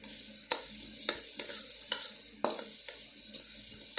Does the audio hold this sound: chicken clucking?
no